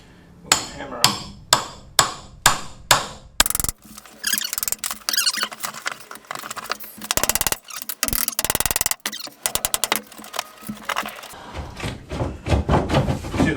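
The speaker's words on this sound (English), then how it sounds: "We'll hammer them." Hammer blows knocking tongue and groove boards off a filled-in veranda, first a run of sharp evenly spaced whacks, then rapid clattering knocks and scraping board noise, loud and close.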